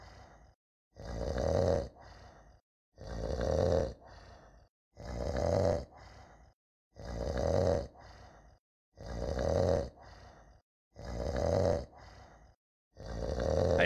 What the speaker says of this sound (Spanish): hay alguien roncando